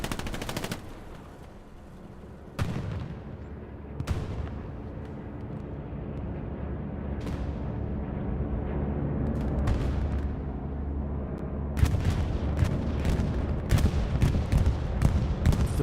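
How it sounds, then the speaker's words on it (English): In the video game Hell Let Loose, a bombing run strikes a town centre, setting off a string of heavy booming explosions and rumble that build in intensity, with dense bursts of blasts toward the end. "We got a bombing run coming in to town center."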